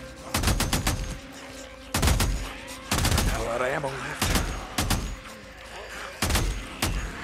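Repeated bursts of gunfire crack out in short volleys, loud and close, with a brief whine between bursts in a chaotic Days Gone firefight.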